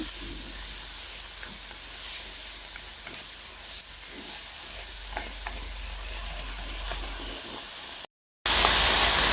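Pork and shiitake mushrooms stir-fry dry in oyster sauce with no water added, a steady close sizzle with scraping stirs that cuts out briefly near the end before returning as a louder hiss.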